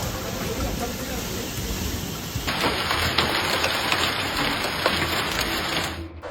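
Heavy rain pours down in a steady, dense hiss that thickens partway through into a louder downpour, with no voices heard.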